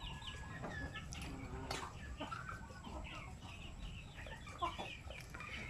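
Native chickens clucking close by in a farmyard, a loose run of short overlapping clucks and calls over a low, steady background hum.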